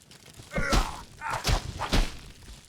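Three dull, close thuds from striking a training dummy in The Witcher 2: Assassins of Kings. The blows come in quick succession, about half a second apart, with soft swishes between them.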